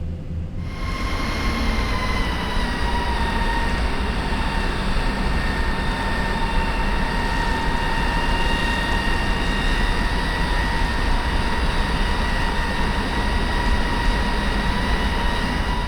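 Airliner jet engines in the X-Plane 10 flight simulator spool up while taxiing toward the runway, a steady, loud droning whine with sustained tonal hums layered over a broad rumble, heard alone and unbroken.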